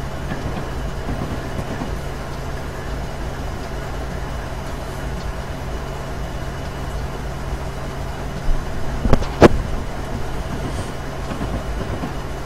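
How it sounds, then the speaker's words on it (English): Long Union Pacific freight train with SD70 locomotive rumbling steadily past on Sherman Hill in Train Simulator, a continuous low drone with a brief burst of louder clanks and a sharp squeal near the end. "Yeah, this is a very long train, Koplopper."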